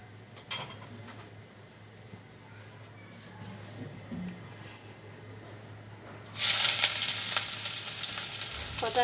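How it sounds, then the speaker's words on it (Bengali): Chopped onions drop into a hot pan for a country-chicken curry, setting off a sudden loud, broad sizzle after a quiet stretch. The frying then stays steady and close. "এখন আমি এখানে পেঁয়াজ কাটা দিয়ে দেব।"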